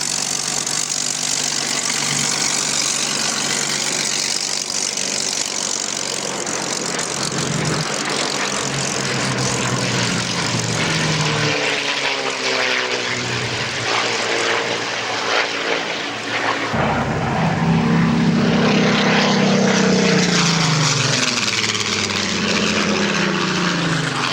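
Propeller aircraft flying over the Duxford Flying Legends airshow in 2001, a loud continuous engine drone that swells and shifts pitch as the planes pass, with no voices.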